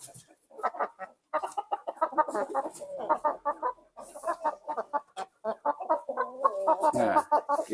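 Hens clucking on a small backyard chicken farm, a busy run of close, repeated clucks and squawks from several birds with a louder, rising call near the end.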